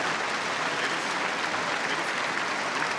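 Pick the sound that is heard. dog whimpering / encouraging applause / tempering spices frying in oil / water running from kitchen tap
encouraging applause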